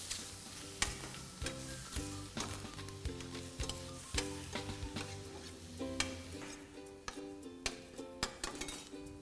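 Squid filling of chopped tentacles and fins is stirred in a pan, with soft sizzling and repeated clinks and scrapes of a utensil against the cookware in an uneven rhythm.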